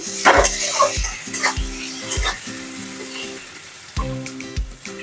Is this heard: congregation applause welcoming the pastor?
no